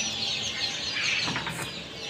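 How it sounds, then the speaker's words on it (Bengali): Day-old quail chicks packed in cartons at a hatchery, about five thousand of them, give a continuous chorus of high, thin peeps and chirps with light rustling and fluttering close by. "আপনারা দেখতে পাচ্ছেন জিরো কোয়েল পাখির বাচ্চা।"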